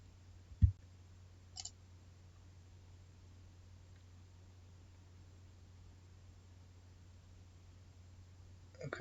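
A computer mouse clicks once sharply, then gives a fainter click about a second later, with more clicking near the end, all over a steady low electrical hum in a quiet room.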